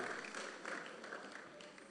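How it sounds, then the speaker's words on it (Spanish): A church congregation claps together during a Sunday morning service, a steady wash of applause, fairly faint and even, with a voice faintly present. "Dale un aplauso al Señor en esta mañana"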